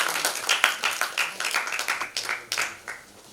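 A small audience claps to welcome a guest, a short burst of scattered, distinct handclaps at moderate volume that thins out and fades within a few seconds.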